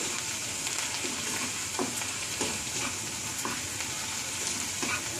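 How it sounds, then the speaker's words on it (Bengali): Spices frying in ghee in a pan for a restaurant-style shahi doodh paneer, a dense, steady close sizzle with soft scraping stirs throughout, no voices. "একটু ভাজা ভাজা হবে। দেখুন ভাজা ভাজা হয়ে এবার দেখুন ঘি ছেড়ে দিয়েছে।"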